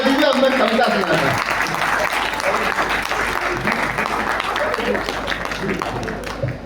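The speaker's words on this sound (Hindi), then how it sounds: "अब एक बार तालियां बजा दीजिए" Audience applause at a Hindi kavi sammelan poetry gathering, loud sustained clapping from a large crowd lasting several seconds, mixed with some voices and fading slightly toward the end.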